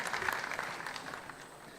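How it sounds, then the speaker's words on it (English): Applause from an audience at a ceremony honouring Ghana's President Nana Addo Dankwa Akufo-Addo, steady and fairly distant, fading slightly over a couple of seconds with no voices over it. "Please, a round of applause once again for Nana Addo Dankwa Akufo-Addo."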